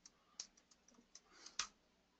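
Computer keyboard typing during a live online tech presentation, a sparse run of faint key clicks with a couple of louder taps, no talking.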